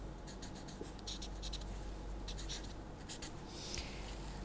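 Pen or marker strokes on a writing surface as a vector is sketched by hand during a lecture, a quiet run of short scratchy strokes and taps with pauses, close and alone over steady room hiss.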